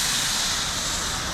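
High-pressure water from a pressure washer sprays steadily through a residential house wash, a close, loud and continuous hiss with no talking.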